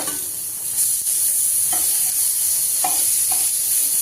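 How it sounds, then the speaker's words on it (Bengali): Eggplant slices frying in a pan, a constant sizzle broken by a few sharp scrapes and clinks as the pieces are turned over, close and fairly loud, with no voices. "একটু বেগুনগুলোকে উল্টে পাল্টে দিই।"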